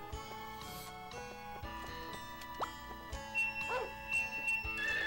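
A dog barks in the video game Harvest Moon 64. A few short, quiet yips and small whimpers sit within soft, tonal game music, with no speech.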